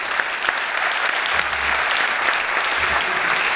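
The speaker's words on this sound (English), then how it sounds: "I would like to ask you for a round of applause for Teemu Arinen." Audience applause at a pharma-industry summit as a speaker is welcomed to the stage, a steady, dense clapping that stays loud and even throughout, with no talk over it.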